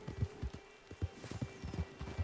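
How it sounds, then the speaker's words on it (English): A horse's hooves clip-clop in an uneven walking rhythm in the video game Red Dead Redemption 2, close and moderately loud, with a faint hum in the background. "That's a strong-looking horse."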